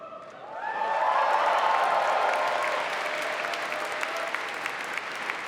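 Steady audience applause fills a convention hall during a Star Wars Celebration 2023 panel with Giancarlo Esposito, swelling quickly and holding as a dense wash of many hands clapping, with no talk over it.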